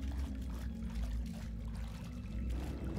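Water pours steadily in a Portal 2 sewage area, a continuous rushing splash over a deep low rumble, close and unbroken.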